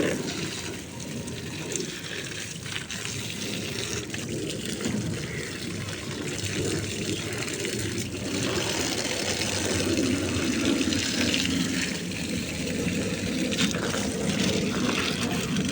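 Water runs in a steady, gentle stream onto potted plants in a rooftop garden, a soft continuous splashing that stays even and grows a little fuller toward the end.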